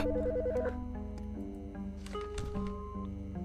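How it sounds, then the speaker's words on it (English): A telephone in the Autopsy Simulator video game rings with a brief trilling burst at the start, heard over a steady droning game soundtrack and scattered clicks. "The fucking phone."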